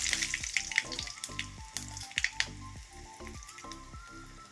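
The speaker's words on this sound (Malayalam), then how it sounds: "അല്പം വെളിച്ചെണ്ണ ഒഴിച്ചിട്ടുണ്ട് അല്പം കടുക് കൂടെ ഇട്ട് കൊടുക്കാം" Hot coconut oil sizzles while mustard seeds pop and crackle with dried red chillies in quick, irregular bursts, close and fairly loud, with no voices.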